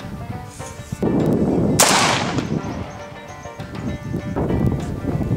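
A single rifle shot of 122-grain 7.62x39 full metal jacket fired into expired body armor, a sharp loud crack with a long reverberating boom trailing off outdoors, with lighter rustling around it.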